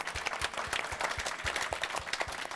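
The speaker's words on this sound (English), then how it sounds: "put their hands together for a big round of applause" Audience applause for a panel at the close of a crypto debate event, dense sustained clapping from a crowd filling the room at moderate level, with no one speaking over it.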